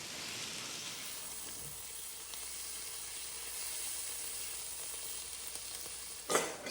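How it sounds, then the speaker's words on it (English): Caramelized onions that are starting to brown sizzle in a pan as they are stirred, a steady close hiss with a louder scrape near the end. "I need to stir my caramelized onions. They are already starting to brown."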